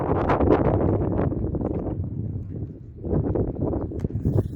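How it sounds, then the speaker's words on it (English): A north wind blows across a cruising sailboat, giving loud, gusty buffeting rumble against the microphone that rises and falls over a few seconds, with no one speaking. "Watching the wind, which is coming down from the north."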